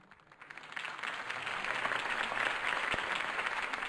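Crowd applause at a political campaign rally in the Batman: The Telltale Series game, swelling from a quiet start into steady, dense clapping that holds at a moderate, somewhat distant level with no voices over it.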